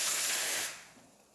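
A Rocket Cinquantotto espresso machine spouts hot water with a bright, spraying hiss that cuts off after about half a second, leaving a faint fading trickle.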